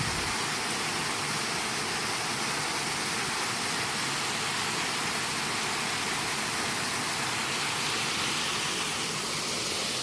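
A waterfall rushes steadily and loudly at close range, a dense continuous roar with no voices over it.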